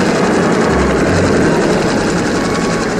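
Helicopter from the 1967 film You Only Live Twice, a steady loud rotor thrum and engine whine running continuously for the full stretch with no speech.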